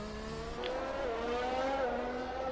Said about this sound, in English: Down gears into the heavy braking zone of the hairpin.